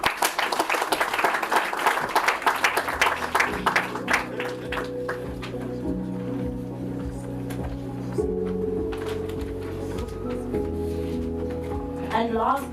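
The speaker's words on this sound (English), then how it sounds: "Please give him a round of applause." Audience claps at a business event on inclusive growth for small enterprises, a burst of dense clapping that fades within a few seconds as sustained music tones take over, with voices mixed in.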